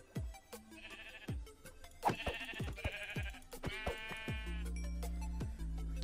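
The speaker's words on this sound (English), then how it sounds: "Ooh, sheep!" Sheep in the video game Minecraft bleat several times in quick succession, nasal, wavering calls mixed with game clicks and thuds, ending in a low steady rumble.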